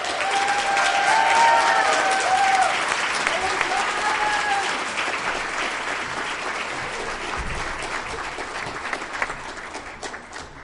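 An agency audience at an Ability Awareness awards event applauds an Advocate of the Year honoree, sustained many-handed clapping with a few voices calling out early on, slowly tapering over about ten seconds.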